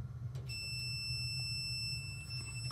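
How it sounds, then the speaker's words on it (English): Steady high-pitched continuity beep from a multimeter as its leads touch two contact points on a part connected to the heating element of a Whirlpool Thin Twin dryer, one continuous tone held for about two seconds over a low background hum. "And you hear a beeping, and it was when I placed the leads on these two contact points of this piece that does connect to the element."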